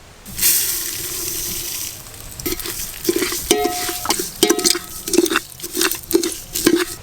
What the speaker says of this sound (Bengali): পায়েসের জন্য চালটাকে একটু হালকা করে ঘিয়ে নেড়ে নেব।